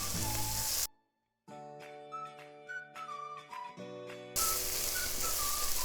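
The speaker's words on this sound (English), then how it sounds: "We're adding cumin seeds." Cumin seeds sizzle and crackle in hot oil with onions for a curry, a loud close frying hiss that cuts out briefly, with a steady whistling tone in the middle before the sizzle returns.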